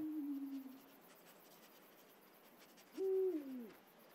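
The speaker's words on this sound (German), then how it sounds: "Da ist eine fucking Eule." An owl hoots in the video game Endling, two clear descending calls, one at the start and one near the end, each standing out alone over a quiet hissing ambience.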